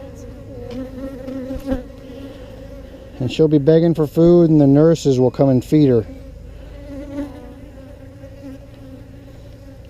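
Honeybees on a hive frame in Texas hum in a low, steady drone under a person speaking clearly close by.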